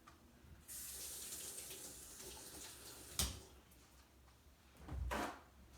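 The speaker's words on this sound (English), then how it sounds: "I'm gonna wash my hands really quick" A sink tap runs steadily as hands are washed, starting after a quiet moment and flowing for several seconds, broken by a sharp knock and a later splashing surge, fairly faint overall.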